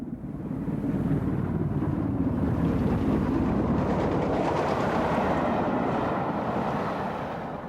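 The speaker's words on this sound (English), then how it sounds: "a Class 44 210 heavy freight engine is seen heading southwest out of Hamburg towards Buchholz and Bremen" A Class 44 heavy freight steam locomotive heading southwest out of Hamburg on a German main line, a steady loud rumble with faint rhythmic beats, swelling in and slowly fading as it passes.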